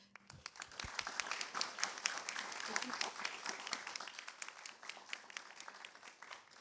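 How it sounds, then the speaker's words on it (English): An audience of young people at a youth dialogue on Singapore's fertility rate applauds, a faint but steady patter of many hands clapping that fades slightly toward the end. "a round of applause to you guys"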